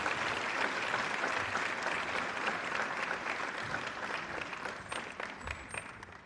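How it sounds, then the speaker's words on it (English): An audience at a national electoral dialogue conference in Freetown gives sustained applause, a dense continuous clapping that holds steady and slowly thins toward the end, with no voices above it. "Let's give him a big applause."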